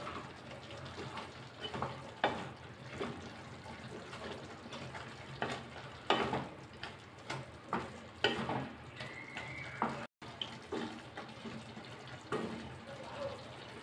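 Chicken fry being stirred in a pan after ground spice powder is added, with soft sizzling and scraping strokes in an irregular rhythm at close range, while a voice talks over it.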